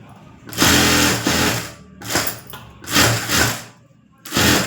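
A sewing machine stitches a hemming strip in four loud, close runs of rapid whirring, with short pauses between them.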